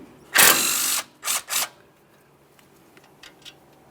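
A ratchet loosens a 10mm mounting bolt on the flex hose bracket at the front steering knuckle of a Ford F-150. One long loud burst of rapid clicking is followed by two shorter bursts, then faint scattered clicks, close up.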